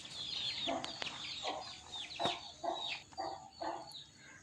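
Aseel roosters and young chicks cluck in a rapid, uneven series of short calls while feeding on soaked wheat and lentils, fairly close but soft.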